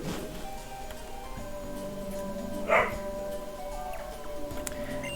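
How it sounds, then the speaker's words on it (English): A single short dog bark in a home during gameplay, one brief yip rising out of a steady background hum. "that's just one of my dogs barking"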